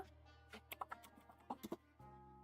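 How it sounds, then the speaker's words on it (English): Computer keyboard typing during a chill art stream, a run of quick, uneven keystrokes and clacks heard close and fairly quiet, followed by a brief steady hum. "hopefully my keyboard isn't too loud for you guys"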